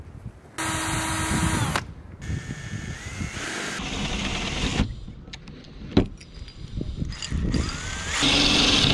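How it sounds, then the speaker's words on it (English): A power drill with a 5/16 bit whirs in several bursts of varying pitch while drilling a hole to mount a side ladder on a Sprinter van, with short pauses and clanks between runs, close and fairly loud. "now I got my 5/16 drill bit, and we're going to drill the hole."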